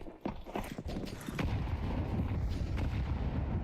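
Grenade explosions during a Counter-Strike match at a major tournament, with a sharp blast followed by rumbling booms and a sustained low roar, over scattered game footsteps and shots.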